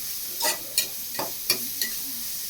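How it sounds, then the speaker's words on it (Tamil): Tomatoes sautéing in a pan for one-pot rice, a soft bed of sizzle broken by four or five distinct stirring scrapes of a spoon at an uneven pace. "தக்காளியை நல்லா வதக்கணும்."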